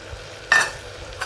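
Blended fresh peeled tomatoes poured into a hot pan for an Algerian vegetable dish, giving one sudden loud sizzle that quickly fades, then a brief second hiss.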